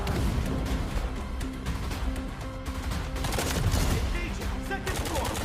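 Dense gunfire from a video game trailer, with sustained bursts of shots and crashing effects running continuously at high level, with some voice underneath.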